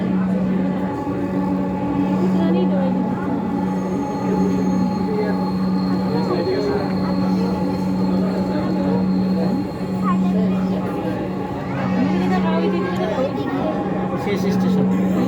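A Dhaka Metro train rumbles along the line with a steady low hum and rolling wheel noise throughout, heard from inside the carriage, with murmuring voices and faint announcements in the background.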